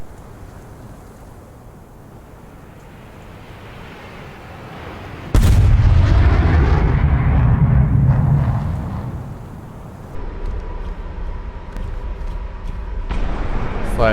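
Missile launches and impacts in the War Thunder air combat game: a sudden loud, deep roaring blast at about five seconds that holds for several seconds, then fades into a lower rumble, with a further burst of noise near the end.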